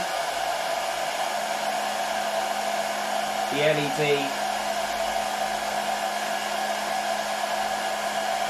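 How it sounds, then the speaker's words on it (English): A steady hair dryer blows throughout at constant level, with a brief spoken phrase partway through. "as I bring the hairdryer in"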